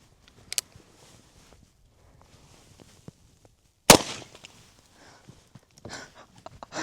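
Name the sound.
Colt Walker revolver firing .45 Colt rounds at a whipped cream can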